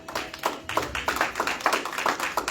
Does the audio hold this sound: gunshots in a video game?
no